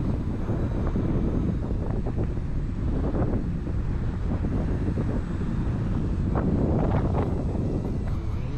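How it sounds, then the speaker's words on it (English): Strong, brutal wind buffeting the microphone outdoors, a constant loud low roar with gusty surges throughout, no voices. "Man, that wind is brutal."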